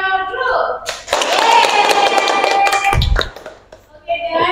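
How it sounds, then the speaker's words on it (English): A group of fourth-grade children claps for a classmates' group presentation at a school assembly. The clapping is a loud, dense burst lasting about two seconds. Children's voices come before it and after it. "give applause for your group"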